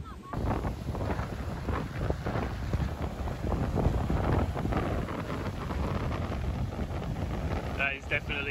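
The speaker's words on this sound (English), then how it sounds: "it is a bit windy" Strong wind buffets the microphone outdoors in Sri Lanka, a continuous loud low rumble throughout, with faint voices briefly underneath.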